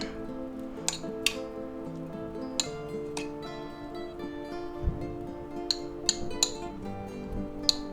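Sweet pickle relish stirred in a bowl, with scattered light clinks of a utensil against the bowl at irregular intervals over a quiet background, close and fairly soft.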